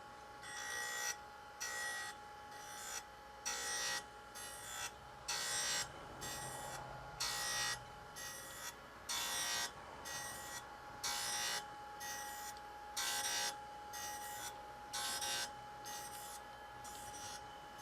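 A grinding wheel runs on a surface-grinding setup just after dressing, cutting at 2,500 steps. It gives a faint, steady whine that pulses in even, rhythmic bursts as the wheel passes back and forth over the workpiece.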